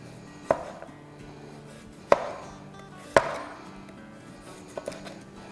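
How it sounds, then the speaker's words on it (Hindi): A knife slices red radish on a cutting board in a home kitchen, giving a few sharp separate chops with pauses between them, then two lighter taps near the end. "मेरे पास ये रेड मूली है, ये ले लेते हैं। इसको थोड़ा सा स्लाइसेस में काट लेते हैं।"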